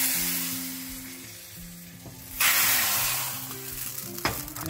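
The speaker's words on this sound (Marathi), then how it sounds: "चमचावर तूप घेतलं. तूप तापल्यावर आपण मोहरी घालतो." Ghee heated in a spoon for tempering sambar, sizzling loudly as mustard seeds go in, with a sudden surge of crackling midway and a sharp pop near the end; no voices are heard.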